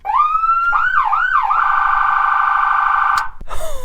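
A police car siren sweeps up and down in a few rising wails, then settles into a loud, steady high tone. It is very close and dominant, then ends abruptly with a click and a brief burst of noise.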